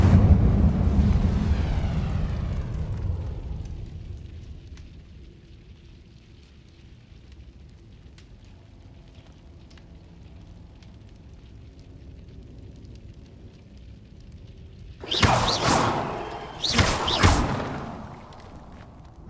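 An Incendio fire spell cast in Hogwarts Legacy, a roaring burst of flame that fades into quiet ambience before two sharp, loud fiery whooshes flare up near the end.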